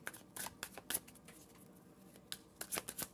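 A deck of cards is shuffled close up in a quiet room during a tarot reading, with a series of crisp riffling bursts and soft slaps coming in uneven clusters.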